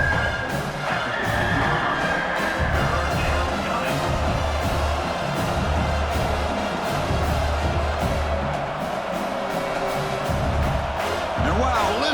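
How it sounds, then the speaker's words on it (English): Dense stadium crowd roar from a simulated college football game, Oklahoma at South Carolina in EA College Football 26, holding steady and loud throughout with scattered cheers under it. "listen to this crowd noise"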